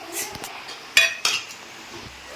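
Biryani ingredients stirred in a pot while cooking at home, with a few sharp metallic clinks and scrapes of a spoon against the pot over a quiet background.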